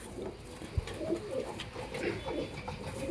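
Lotan pigeons cooing in a loft, soft repeated low coos from several birds nearby with one brief knock early on.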